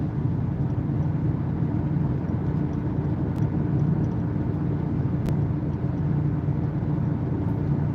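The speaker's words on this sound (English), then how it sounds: "I'm going to get over one lane to the left, accelerating through. And now I'm lifting off my gas." Steady engine and road drone from inside a car on a multi-lane road, accelerating and then easing off the gas, a constant close rumble with little change in level.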